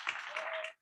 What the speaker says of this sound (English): Can we first please give a round of applause to all the students and student athletes